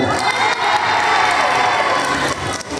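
Crowd of fans at a singer's new-song launch event in a Hong Kong shopping mall cheering, whooping and clapping, a dense continuous roar with children's shouts mixed in, loud and close throughout.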